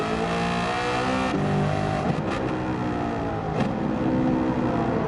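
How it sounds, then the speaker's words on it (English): A race car in a driving video game revs and accelerates hard with engine tone climbing and dropping through shifts, sharp popping backfire bursts breaking in, loud and continuous. "Check out some backfires out of this beast."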